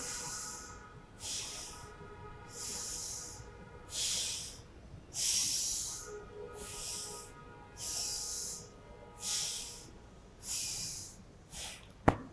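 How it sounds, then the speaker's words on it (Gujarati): Forceful bhastrika pranayama yoga breathing performed at an International Yoga Day session in an Ayurvedic hospital, with about eleven rhythmic loud hissing breath bursts, each roughly a second long, repeating steadily, no talking. "બંને જે પ્રાણાયામ છે આજે અનુલોમ અને આપણે ભસ્ત્રિકા કરી બરાબર."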